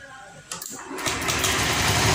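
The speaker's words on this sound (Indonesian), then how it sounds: "di sini motor sudah mudah untuk menyala" A motorbike engine that had lost compression cranks briefly, then catches and settles into a steady, fairly loud running rattle.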